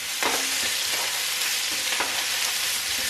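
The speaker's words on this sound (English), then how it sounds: "as you can hear, we are doing the old fry up Hangi" Leftover hāngī meat, potatoes, pumpkin, kumara and stuffing frying in a pan in New Zealand, a steady close sizzle with occasional stirring scrapes, no voices.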